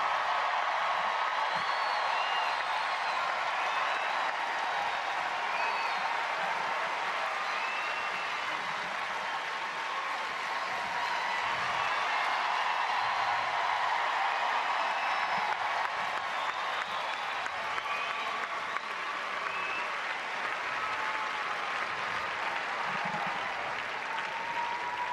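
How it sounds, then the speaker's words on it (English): Arena crowd applause at the Westminster Dog Show, sustained clapping with scattered whoops and cheers, heard from a distance at a fairly low, steady level. "Round of applause for Rumor."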